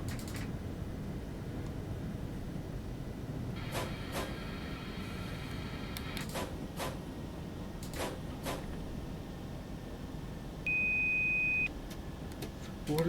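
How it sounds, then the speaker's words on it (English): A single steady electronic beep lasting about a second sounds inside the cab of a DB BR 103 electric locomotive in Train Sim World 3, faint above the constant low rumble of the running train, with a few scattered clicks around it. "What is that beep?"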